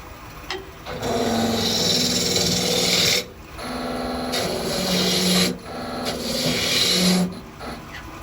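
A wood lathe spins while a gouge cuts, with the bevel rubbing, as a magician's ball and vase prop is turned. Sustained rasping cuts come in three long passes separated by brief pauses, close and fairly loud with no talking.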